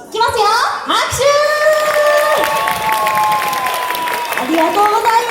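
An audience claps at a mascot-character PR stage show at Funabashi market, with loud, continuous applause mixed with cheering, children's voices and tonal sounds throughout.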